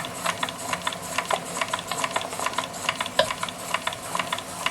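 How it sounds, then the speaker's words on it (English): A Jensen 55 deluxe toy steam engine runs on live steam, its small mechanism ticking and clicking in a quick, even rhythm, close and light like a sewing machine. "Just beautiful how these Jensen 55s run, like a well-oiled sewing machine."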